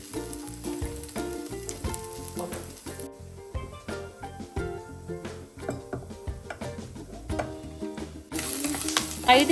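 Onions, green chillies, garlic and curry leaves sizzle in hot coconut oil for a Kerala-style mutton stew, a continuous frying crackle running under background music.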